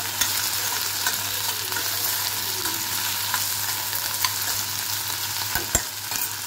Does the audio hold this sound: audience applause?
no